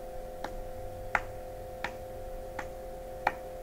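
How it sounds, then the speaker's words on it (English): Three fingers clap against a palm to keep a steady cowbell beat for a drumming lesson, giving five quiet, sharp taps evenly spaced about seven-tenths of a second apart over a faint hum. "Take three fingers and clap like this."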